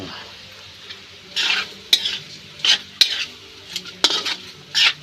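Quail sizzles in a pan as soy sauce goes in, with repeated metallic clinks and scrapes from a utensil stirring against the pan over a steady low frying hiss.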